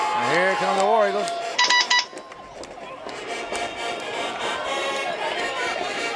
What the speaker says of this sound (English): Let me turn the sound off on my phone.